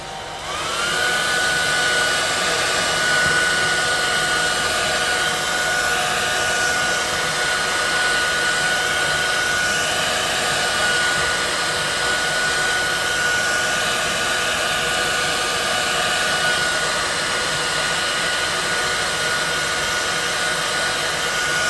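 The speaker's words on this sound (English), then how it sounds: "So a hairdryer is a good one to start and heat the screen up from here." A hair dryer heating an iPhone XS Max screen for removal runs loud and close, a steady whirring blow with a constant high whine that never changes for over twenty seconds.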